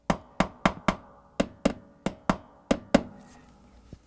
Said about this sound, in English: Using a hammer, I'm going to knock this bracket in just a few times